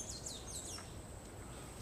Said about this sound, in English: Wow, look at this. Is that a woodpecker?